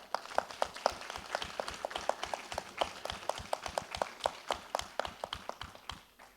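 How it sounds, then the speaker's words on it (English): A small audience at a TEDx event in Dubai gives a round of applause for the speakers, sounding as distinct, fairly sparse claps at a quick uneven rhythm, moderately close and fairly quiet with no talking. "I think we should have one huge round of applause for all the speakers"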